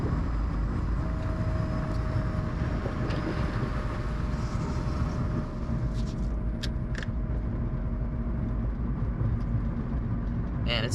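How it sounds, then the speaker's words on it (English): Constant loud road roar and rumble fill the cabin of a hybrid car cruising with its trunk mat removed, a steady wide drone with faint clicks toward the end and people talking over it. "Man, it's loud without the trunk mat in the back."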